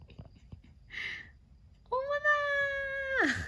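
A single drawn-out cat meow with a rising then falling pitch, preceded by a short faint mew, close and clear over quiet background noise.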